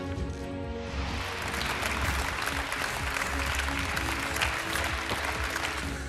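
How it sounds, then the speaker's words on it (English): Sustained applause from an SNP conference audience, a dense wash of clapping hands filling the hall at moderate volume, steady throughout without voices over it. "And there's applause from the SNP as Nicola Sturgeon sets out her plans"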